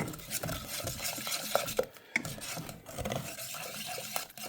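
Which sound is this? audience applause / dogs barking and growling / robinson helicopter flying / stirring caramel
stirring caramel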